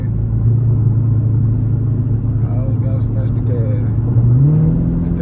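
A Dodge Charger Scat Pack growls loudly at close range, its engine rumbling steadily with a brief rising surge of acceleration near the end, heard from inside a car at night.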